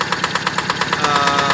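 A Yanmar 8.5 HP diesel engine driving a 3-inch Ebara water pump, running loud and close with a fast, knocking idle chug that steadies into a constant drone.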